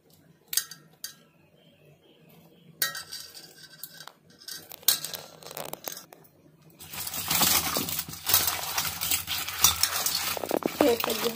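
Bitter gourd pieces are stirred and tossed with squeezed lemon juice in a bowl, starting with a few sparse clinks and scrapes, then turning into a dense, continuous wet churning and rattling, close up, with no talking.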